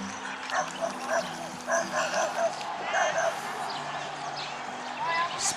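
A Macedonian hound gives yipping barks and whines in short bursts, mixed with people talking nearby and some faint bird chirps.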